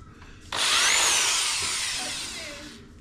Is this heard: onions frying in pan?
no